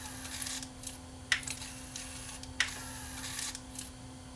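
Sony TC-RX70ES cassette deck mechanism, out of its chassis during an overhaul, with the door closing: two sharp close clicks about a second apart over a faint steady motor hum and soft mechanical whirring.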